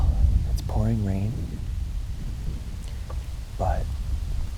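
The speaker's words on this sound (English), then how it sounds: "pouring rain." Pouring rain with thunder during a turkey hunt outdoors, a steady broadband wash of rain throughout with low rumbles, and a voice briefly talking in the middle and near the end.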